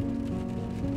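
Rain falls steadily on a car driving along a road in Ukraine, a soft even patter over a constant low engine and road hum.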